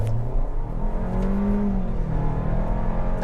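Steady, moderately loud engine drone from inside a 2021 Kia K5 GT-Line AWD accelerating in third gear around 3,500 RPM, rising gently in pitch, with no talk.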